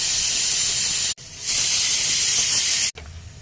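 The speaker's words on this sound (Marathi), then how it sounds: "तर चपाती कुकरची सिटी पण होत आहे." A kitchen pressure cooker whistle vents steam in a loud, close hiss, broken by two brief gaps into long continuous bursts, with a fainter hiss after the last break.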